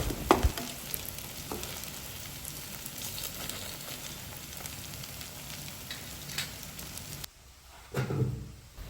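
Puffed rice fritters (bora) deep-frying in oil, a dense crackling sizzle that runs steadily, then drops away abruptly near the end before a brief clatter.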